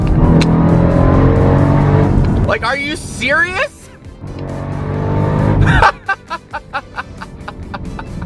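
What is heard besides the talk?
Jeep Trackhawk engine sound during launch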